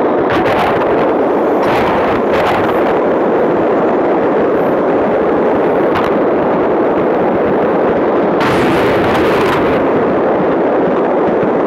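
Shotgun blasts in the hunting game Deer Hunter 2014, a few loud booming bursts standing out against a steady wash of outdoor wind noise, with no talking.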